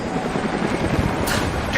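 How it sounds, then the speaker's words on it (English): Helicopters drone in a game battle scene of Rise of the Tomb Raider, a low rumbling rotor roar that holds steady throughout, with a brief hiss near the end. "Jacob, helicopters are headed your way."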